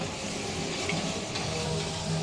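Tomatoes for chutney sizzling in a kadai, a steady broadband frying hiss that stays even and close for the whole stretch, with no voices over it.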